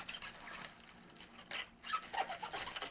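A knife carves around and scrapes into a crisp lettuce head as it is hollowed into a salad bowl, giving soft, close rasping strokes in short bursts.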